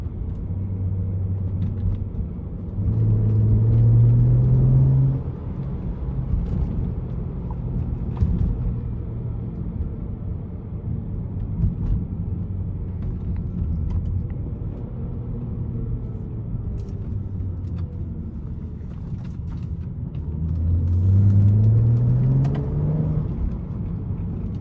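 BMW 340i driving through city streets at night, a steady low engine drone and road rumble from inside the cabin, with a couple of rising gear pulls as it accelerates.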